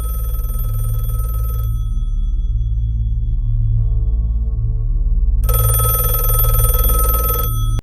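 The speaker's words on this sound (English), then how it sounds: "When the music cuts out and the phone rings" Telephone ringing in the Don't Hug Me I'm Scared series, two loud, shrill electronic rings separated by a quiet stretch, over a low, steady droning hum, with no talking.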